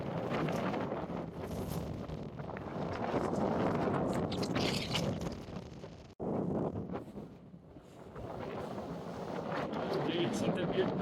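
A strong gale blows at more than 4,300 metres on Pikes Peak, Colorado, roaring and buffeting the microphone almost continuously with one brief break midway, while a voice speaks faintly beneath it.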